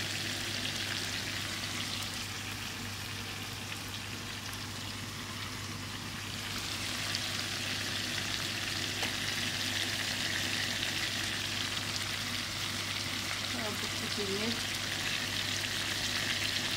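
Whole cumin seeds sizzle in hot butter for a quick karahi, a steady close frying hiss that crackles and swells a little midway, with no one talking.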